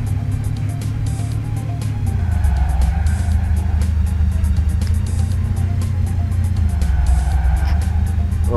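A car in a mobile car wash garage simulator game drives with a steady, loud engine drone whose pitch dips and rises slightly, with no talk over it.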